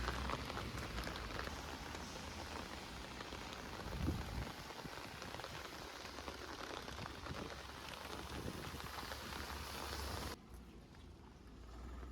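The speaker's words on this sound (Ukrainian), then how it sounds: "У нас дощ." Steady rain pours down outdoors, a dense continuous hiss of drops on surfaces that stays loud throughout, with one brief thump near the middle and a quieter, muffled stretch at the end.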